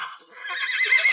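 A horse whinnies in a wartime drama scene, a rising, strained neigh that swells and holds for about a second, fairly close and clear, with a faint voice at the start.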